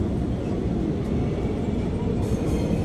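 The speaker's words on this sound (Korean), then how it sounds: "열차가 출발합니다" A train pulls away from the platform with a steady low rumble and rolling hum that holds loud and even throughout, and no voices stand out over it.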